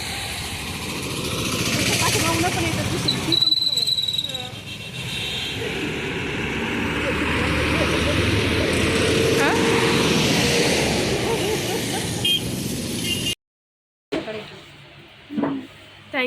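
Busy road traffic with auto-rickshaws near Shirur, a steady wash of idling and passing engines with horn-like tones, loud and continuous, cutting out briefly near the end before resuming.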